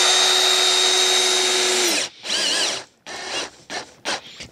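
An AEG BS18SBL2 cordless drill driver runs steadily for two seconds driving a 5 mm screw, then whirs in several short, close bursts with brief pauses between them.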